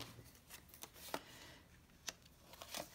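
Tarot cards are shuffled and drawn in quiet, close bursts of soft riffling and crisp snaps, with short pauses between them and no talking.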